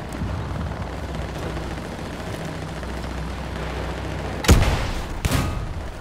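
Rocket impacts and explosions in a combat video game, two sharp loud blasts about a second apart near the end, over a low rumbling background.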